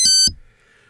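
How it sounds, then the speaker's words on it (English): Two short, loud electronic beeps from a Hobbywing Skywalker ESC in programming mode confirm a setting was accepted, the tones sharp and close, followed by near silence. "The second sound confirms that your choice was accepted."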